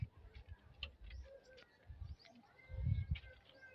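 Soft, low racing pigeon coos repeat in short bursts close by in a loft, with faint chirps and rustling in the background.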